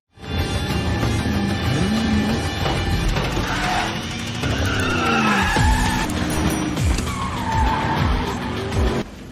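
Race cars in the film Death Race roar off the start with revving engines, squealing tires and skidding, loud and close, with repeated rising and falling engine sweeps layered over a dense rumble.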